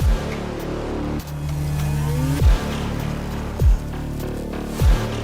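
Race cars lap Sandown circuit, engines droning steadily with several sharp bursts as cars pass close by.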